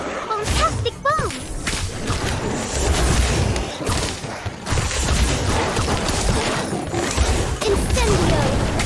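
Bomb spell exploding in Harry Potter: Magic Awakened, a booming blast buried in a dense, continuous mix of game effects, whooshes and crashes that stays loud throughout, with talking over it.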